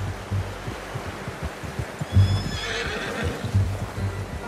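A horse in the video game Red Dead Redemption 2 lets out a clear whinny amid soft, rhythmic clip-clop hoofbeats and low snorting, close and moderately loud, no talking.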